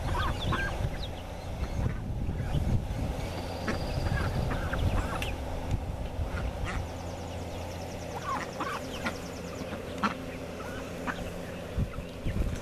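Ducks kept with chickens in a garden pen call in scattered honks and quacks amid other fowl, moderately close and fairly faint over a busy outdoor background.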